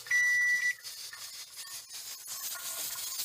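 A kitchen timer goes off after two hours of pressure cooking, giving one steady high beep that stops after under a second, followed by faint rustling and handling noises.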